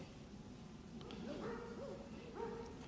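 Dogs bark a few times in the distance on a cool, damp day, the faint yelps and whines rising over a soft outdoor hiss.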